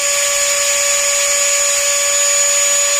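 Ryobi or Dremel rotary tool spinning at full speed near 34,000 RPM, a steady high-pitched electric whine held constant and loud, close up, with no talking.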